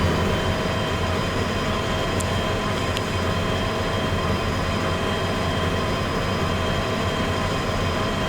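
A freight train in the Derail Valley railway simulator, hauling cars with a caboose, rolls along with a steady, loud rumble and droning hum, joined by two faint metallic squeaks, with no talking.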